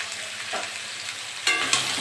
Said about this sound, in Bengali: আলু আর পটলটা ভালো করে ভেজে দেবো।